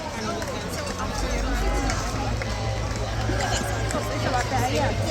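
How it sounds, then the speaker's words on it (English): Spectators lining the London Marathon course on Birdcage Walk in central London keep up a steady, dense roar of crowd noise and babble for runners streaming past, loud and continuous throughout. "the entire course is really, really, really well lined with spectators cheering the runners on"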